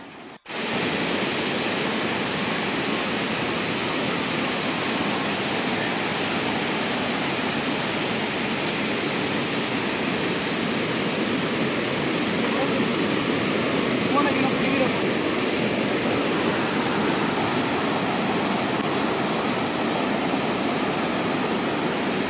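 The Kaveri river pours over Hogenakkal falls in a loud, continuous roar of rushing water. It starts abruptly and stays dense and unbroken throughout.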